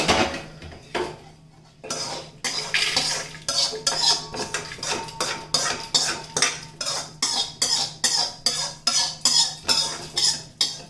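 A metal spoon scrapes and clinks against a metal bowl while transferring fried ingredients for coriander chutney, in a quick, steady rhythm of repeated strokes, close and fairly loud.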